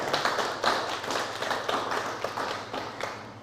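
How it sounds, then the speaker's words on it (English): Applause at a Domfesta cultural ceremony honouring the Cultural Division staff, a moderate crowd clapping with a loose, audible rhythm of individual hand claps, steady and fairly close throughout. "Give them a round of applause for me, please"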